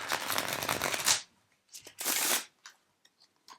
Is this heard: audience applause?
no